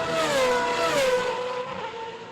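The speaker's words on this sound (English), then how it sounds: "There are people driving racing cars round and round in circles on a perfectly smooth circuit." Racing cars circle a smooth track, their engines producing a loud, continuous high-pitched whine that dips slightly in pitch as the cars pass and fade.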